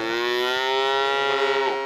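A dairy cow in a farm barn gives a single long, drawn-out moo, close and clear, with no talking.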